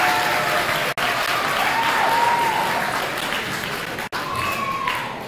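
Loud, sustained applause from a large audience fills the space, continuous clapping with a couple of abrupt brief cuts.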